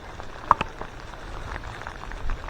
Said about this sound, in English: It's starting to rain, starting to thunder